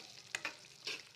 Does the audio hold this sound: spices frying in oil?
yes